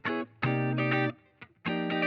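A chopped guitar loop, played dry with no effects, in short bright plucked bursts separated by abrupt cuts and brief gaps, stuttering in an uneven rhythm, clear and alone.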